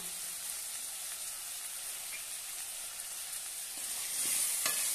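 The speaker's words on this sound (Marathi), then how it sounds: "आता छानपैकी परतून घेऊया" Potato and spinach sauté in a pan with turmeric, coriander powder, salt and garam masala, giving a steady close hiss of frying, with a few spoon clicks and a slight swell toward the end.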